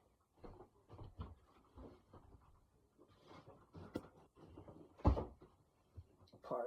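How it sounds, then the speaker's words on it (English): A door is shut indoors, landing as one firm thud about two-thirds of the way through, amid scattered softer knocks and handling noise. "So, let me shut this door again."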